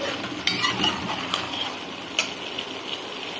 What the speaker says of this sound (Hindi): अब चिकन को अच्छी तरह से भून लें